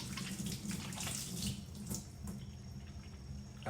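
Tap water running steadily into a sink while a kitchen cloth is wetted during focaccia preparation, a close, continuous splashing stream alone with no talk.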